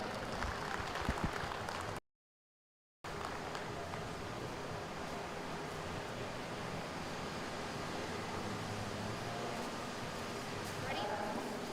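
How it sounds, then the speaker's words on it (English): Applause at a 4-H cattle show for the exhibitors in the ring, a broad, even, noisy wash of clapping from a spread-out crowd, briefly cut to silence near the start, then continuing steadily at a moderate level. "Please give them a nice round of applause."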